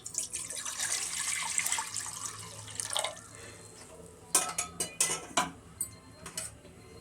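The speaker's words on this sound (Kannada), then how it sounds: "ಒಂದೆರಡು ಗ್ಲಾಸು ನೀರು ಹಾಕ್ತಾಯಿದ್ದೀನಿ" Water poured from a couple of glasses into a pressure cooker while making vegetable sambar, a steady splashing pour followed by clinks of metal vessels and a few sharp knocks near the end.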